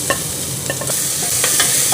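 Onion fries and sizzles in a pan while a utensil stirs it, giving a continuous close hiss with scattered scraping clicks.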